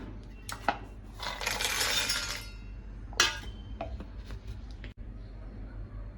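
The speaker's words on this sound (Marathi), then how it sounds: "शेंगदाणे भाजून घेतले आता जाडसर वाटून घेते" Roasted peanuts being coarsely ground in a mixer jar for sabudana vada, with a rattling, clinking grind of about two seconds, a second short burst and scattered knocks, heard close and fairly loud over a low steady hum.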